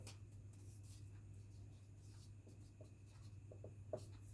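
A pen writes an answer by hand on paper, a faint, steady scratching with a few small taps near the end, alone with no talk.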